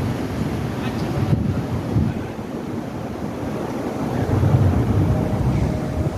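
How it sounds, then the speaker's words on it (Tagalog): Strong wind buffets the microphone outdoors at Wynn Palace in Macau, a steady loud roar with rumbling gusts that swell toward the end, near water. "Malakas kasi hangin."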